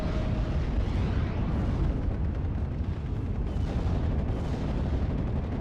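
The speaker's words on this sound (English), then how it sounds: "And artillery firing backwards and forwards almost constantly." Artillery fire and explosions fill the video game Steel Division: Normandy 44, a loud, continuous wall of booming blasts and rumbling impacts with no break.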